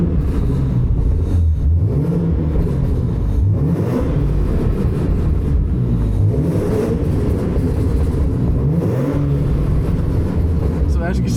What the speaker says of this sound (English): So this is just a little rev.